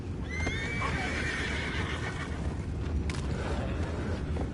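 A horse in the video game Red Dead Redemption 2 whinnies loudly with a long rising-and-falling neigh, followed by a brief snort, over a steady low rumbling background.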